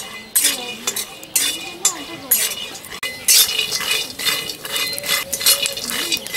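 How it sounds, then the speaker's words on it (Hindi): Almonds roasting and being stirred in a pan over a low flame, with repeated scraping and clinking strokes that come close and fairly loud, alongside light sizzling and faint kitchen clatter. "बादाम को धीमी आंच से ही भुनेंगे ताकि हमारा बादाम जले ना।"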